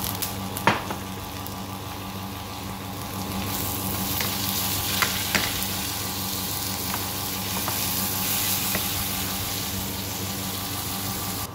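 Tomatoes fry in a pan for shrimp biryani, giving a steady close sizzle with occasional sharp pops and clinks of stirring throughout.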